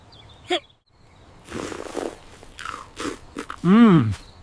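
Someone bites into a roasted marshmallow at a backyard campout, a short crunchy bite followed by chewing. Voices talk around it, ending in a loud, rising sound of delight.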